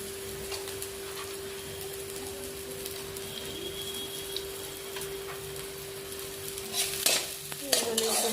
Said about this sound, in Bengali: এগুলো একটু ভাজা ভাজা হবে।